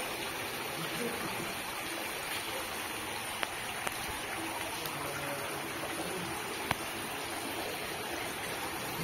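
Water running from a tap outdoors near a rice field, a faint steady hiss and splash with a few sharp clicks.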